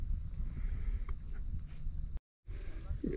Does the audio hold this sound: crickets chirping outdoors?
yes